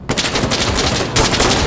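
Rapid automatic gunfire in the video game Insurgency Sandstorm, a dense, loud burst of shots with a short break partway through, close and harsh with no one talking.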